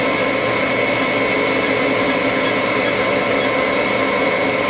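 A 1998 Haas HS-1RP CNC machine with a 7,500 RPM spindle runs at 5,000 RPM, producing a loud, continuous, steady high-pitched whine with rich tonal harmonics and no one talking.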